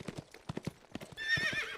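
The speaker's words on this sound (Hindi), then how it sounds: "राजा अमर का घोड़ा अपना बैलेंस खो देता है।" Cartoon horse hooves clip-clop in a quick uneven patter, then a loud whinny breaks out as the animal loses its balance while carrying a king out of a palace.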